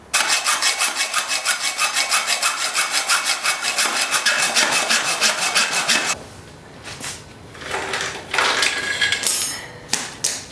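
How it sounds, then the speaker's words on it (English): A hacksaw cuts through a motorcycle chain link on a Yamaha XJ600, with rapid rhythmic rasping strokes for about six seconds, then irregular metallic scraping and knocks close by. "After a whole lot of hacksaw and a little bit of tap tap tap with the chisel, cut that link right in half."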